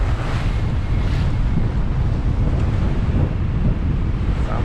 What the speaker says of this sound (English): The sea is quite irregular, with waves from different directions.